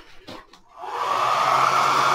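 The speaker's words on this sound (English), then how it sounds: "So I take my hairdryer, put it on a low setting" A hair dryer on a low setting switches on to dry a willow and tissue form, settling into a steady, moderate whoosh of blowing air after a couple of brief rustles.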